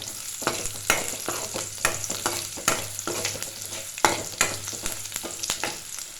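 Onions sizzle and sauté in a pan for a manathakkali greens curry, with a steady frying crackle broken by regular scraping strokes of a spatula stirring them, close and fairly quiet.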